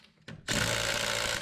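An impact wrench tries to break loose the nuts on a wheel rim. A short blip comes first, then a loud, steady rattling burst runs to the end of the brief moment.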